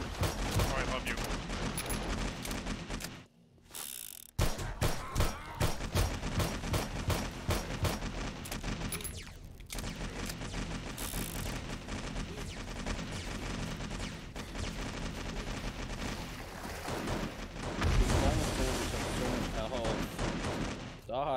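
Weapon fire in a zombie video game: rapid bursts of shots and booming blasts over a dense noisy mix, loud and near, with brief pauses and voices talking in between.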